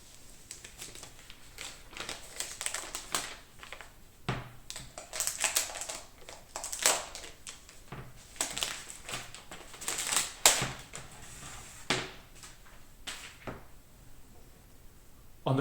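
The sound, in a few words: unwrapping an Apple iPad Pro from its wrapping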